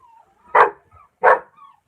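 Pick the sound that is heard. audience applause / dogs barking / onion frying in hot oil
dogs barking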